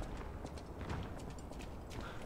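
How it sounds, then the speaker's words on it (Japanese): Footsteps in the video game Lies of P land as a steady, rhythmic clopping of hard treads at moderate loudness, continuing evenly across the whole stretch over low ambient game sound. "足音がしますね。"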